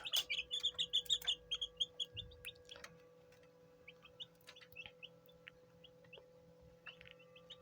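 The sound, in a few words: chicks chirping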